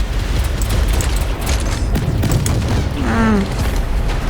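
Booming blasts and rapid gunfire from the Roblox game Base Attack, loud and dense throughout, with a player's voice briefly heard near the end.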